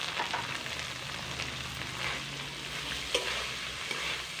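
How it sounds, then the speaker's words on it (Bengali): Chopped carrot and cabbage fry in a spiced masala for a vegetarian daliya khichuri, giving a steady, close sizzle with a few light clicks of stirring and no talk. "এবার এর মধ্যে একে একে সেই গাজর কুচি আর বাঁধাকপি কুচিগুলো দিয়ে দিচ্ছি।"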